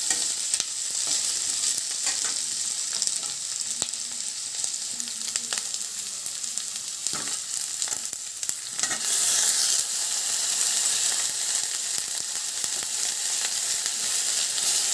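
Tomato sizzles steadily in a pan for chilli parotta, a continuous close frying hiss with light stirring scrapes, louder and brighter in the second half, without any voices.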